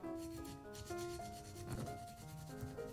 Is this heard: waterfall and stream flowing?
no